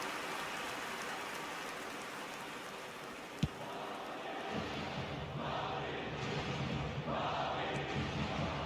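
Stadium crowd noise in an eFootball video game match: a steady broad roar of spectators swelling into cheering in the second half, with a brief sharp thump partway through.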